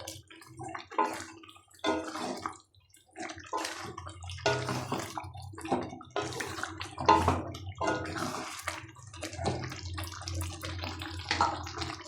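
Water poured into a pan of vegetable biryani with fried dhoka and potatoes, a continuous splashing, gurgling pour close by with uneven surges.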